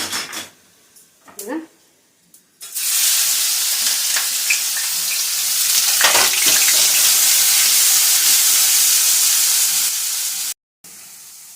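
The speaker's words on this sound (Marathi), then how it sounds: "आपण जे कांदा अद्रक लसूणची पेस्ट करून ठेवली आहे ओबडधोबड ती घालूया" A coarse onion, ginger and garlic paste drops into a cumin tempering and bursts into a loud, continuous sizzle that lasts about eight seconds. A few quiet clinks and a voice come before it.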